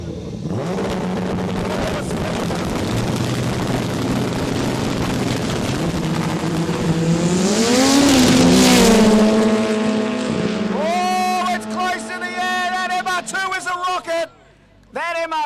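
Cars launch down a no-prep drag strip at a quick street event, one a Toyota MR2, as loud engines rev and roar past then rise through gears, with a commentator talking over them.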